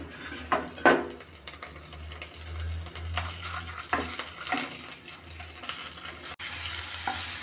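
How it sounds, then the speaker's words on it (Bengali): Onions browning with ginger garlic paste in a pan for fish fry, with a steady sizzle, clinks and scrapes of a utensil against the pan at intervals, close up and with no talking. "পেঁয়াজটা হালকা ব্রাউন কালার আসা পর্যন্ত ভেজে নেব"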